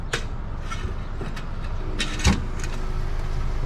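Mazda B2000 pickup stuck in mud, engine droning under load as the wheels keep spinning, a steady muffled rumble with scattered clicks and one brief thump, heard alone.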